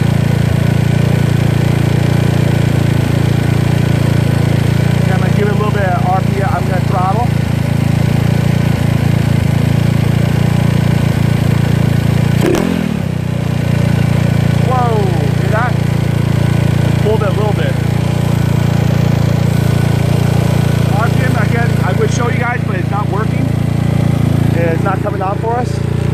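A GY6 scooter engine fitted with an OKO PWK 30mm carburetor idles steadily and loudly for a long stretch, with a brief bump in revs midway and someone talking intermittently over it.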